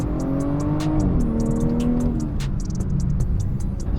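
BMW F30 340i engine accelerating, a loud close drone rising in pitch through the gears, with a shift or two and a steady strong rumble inside the car, no talk.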